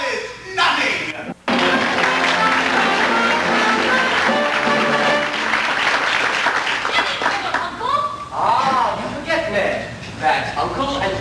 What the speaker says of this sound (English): Ladies and gentlemen, a warm round of applause, if you please, for tonight's guest artiste and London's leading male impersonator, Miss Alice Nothing.